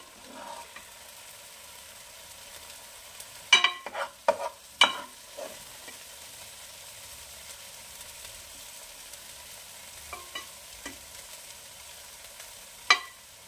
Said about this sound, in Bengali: সারা ফুলকপির গায়ে আমি মশলাগুলো এভাবে সাইড দিয়ে নিয়ে মাখিয়ে দেব